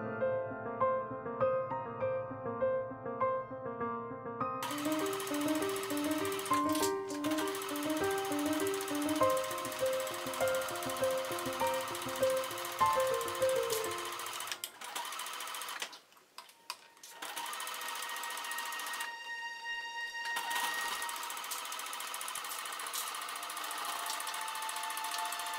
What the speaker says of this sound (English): stitch in the ditch at the shoulders and side seams to secure the layers together